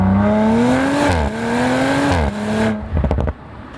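A 2023 Audi RS5 Competition with an 8-speed transmission revs loud and close, its engine note climbing and dropping sharply at two quick shifts, then settling into a lower burble with a few pops at the end.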